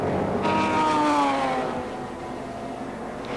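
A Holden Commodore sports sedan races at Amaroo Park, its engine note rising then fading as it passes, loud at first and then settling into a steady distant drone.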